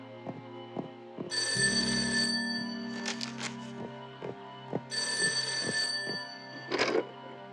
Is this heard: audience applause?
no